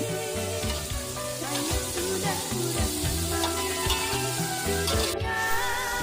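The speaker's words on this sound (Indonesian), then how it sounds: "Setelah itu kita masukkan sayuran. Kita aduk-aduk sebentar." Vegetables being stir-fried in a pan for a spicy tofu and tempeh stir-fry: a steady close sizzle with stirring, running continuously and fairly loud the whole way through, with no voices.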